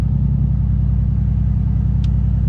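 Mercedes-AMG C63s with a muffler delete idling, a loud, steady low rumble with a pulsing, lumpy beat running throughout, close by and alone with no talking.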